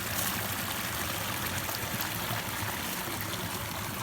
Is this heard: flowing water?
yes